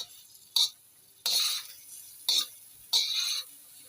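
Croutons tossed in butter with a flat spatula, four quick scraping, sizzling strokes at an uneven pace, close and fairly quiet over a faint background; no voices.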